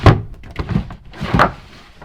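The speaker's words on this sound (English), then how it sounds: "I built this divider here that kind of slides in and out the door." A homemade sliding divider inside a 2018 Ram ProMaster camper van slides and closes, making a few dull thunks and knocks spread over about two seconds, fairly close and loud with no talking.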